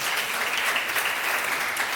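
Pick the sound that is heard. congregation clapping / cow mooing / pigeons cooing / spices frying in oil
congregation clapping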